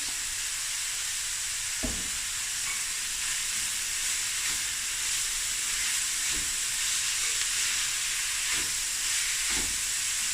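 Grated carrot, cabbage, onion and garlic fry in a pan with a steady, even sizzle and hiss. Occasional soft stirring knocks break through the constant crackle.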